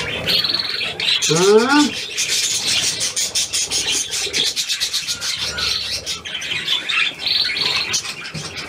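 Seagull squawking at the shore, one short rising call near the start, loud against breezy wind noise, with a voice speaking briefly.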